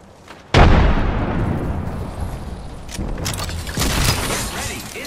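A frag grenade detonates in a first-person shooter video game, a sudden loud boom after a brief quiet moment, followed by a rumbling decay and more scattered combat noise.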